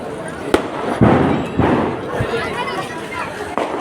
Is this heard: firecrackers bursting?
yes